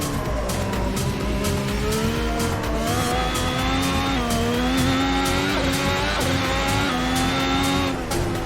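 F1 car in a racing video game, engine note rising and falling steadily through corners as it brakes and accelerates, with loud continuous engine harmonics and occasional pitch drops from downshifts.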